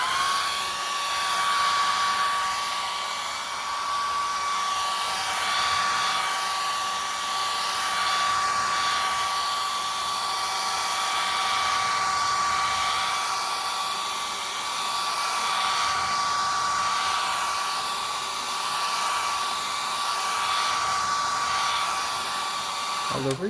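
A hair dryer runs steadily at close range, drying acrylic paint along a taped line on an 11x14 canvas, with a constant whine that continues unbroken with no talking before it cuts off at the end.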